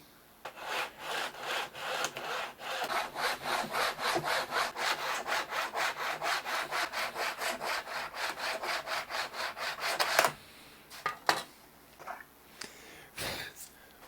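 Hand saw cutting fret slots in a wooden guitar fretboard, 25.5-inch scale with 22 frets, in fast, even back-and-forth strokes, close and loud, ending with a few scattered knocks and scrapes.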